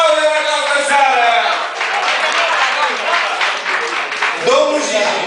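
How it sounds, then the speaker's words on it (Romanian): Applause from a pub audience at a Miss Iasi show in a Dublin pub: dense, steady clapping that fills the whole stretch, with voices over it at the start and end. "Vă rog frumos aplauze în această seară!"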